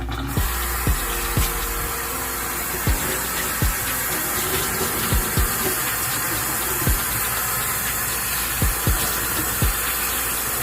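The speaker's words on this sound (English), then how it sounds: "I am about to rinse this out. Rinse out the soap out." Running water rinses shampoo out of an old curly headband wig, a constant close hiss of flow broken by frequent sharp drips, taps and splashes at irregular intervals.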